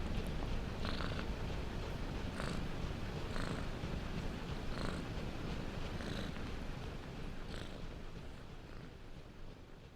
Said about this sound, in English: A black cat looked up at him, purring loudly